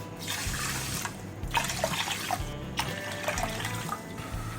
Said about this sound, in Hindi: इसमें 4 कप पानी डालेंगे।